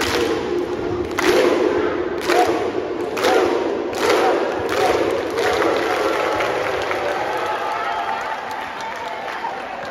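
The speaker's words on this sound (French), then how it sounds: "un clapping animé par Mathieu" A festive crowd at an outdoor gathering in Côte d'Ivoire claps in rhythmic bursts with whoops and cheers, the claps coming in spaced volleys before fading into a lively murmur.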